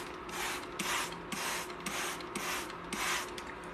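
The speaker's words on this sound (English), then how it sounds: "take a spray bottle filled with filtered water, as you can see here, and we're going to spray them down just like this." A handheld spray bottle of filtered water mists a tray of microgreens, giving a steady series of hissing sprays with brief breaks between trigger pulls, up close and unaccompanied by speech.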